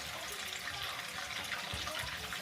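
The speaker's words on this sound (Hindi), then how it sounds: "ल्यूक वार्म वाटर, बिल्कुल कम पानी डालते हुए ना, थोड़ा पानी डाल के" Lukewarm water pours steadily into flour for dough, a soft continuous trickle and splash heard close and fairly faint, with no talk during it.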